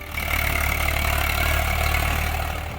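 A tractor engine runs at a steady drone in a cabbage field, loud and close, with no voices.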